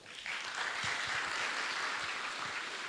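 A political rally audience breaks into dense, continuous clapping that swells within a moment and fills the rest of the stretch, loud and steady without pauses.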